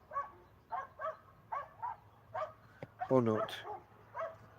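Dogs yap and bark off in the distance in a repeated, uneven rhythm, with a brief spoken phrase over one burst near the middle.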